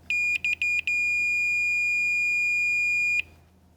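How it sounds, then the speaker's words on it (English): A multimeter continuity tester checking the terminals of a Frigidaire range burner switch sounds a loud, high-pitched beep: several short chirps in quick succession, then one sustained tone lasting over two seconds before cutting off. "use your multimeter to check for continuity between these terminals"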